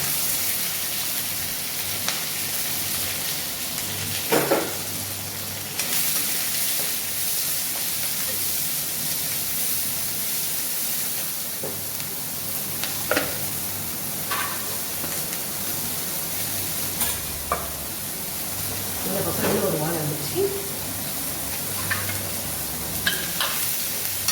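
Onion, curry leaves and green chili fry in hot oil in a pan, a steady close sizzle broken by occasional scraping stirs, with no voices over it.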